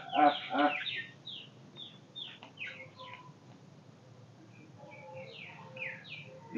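Several bird calls chirp and warble in short, repeated phrases, with a louder burst at the start, then quieter scattered notes against a soft background hiss.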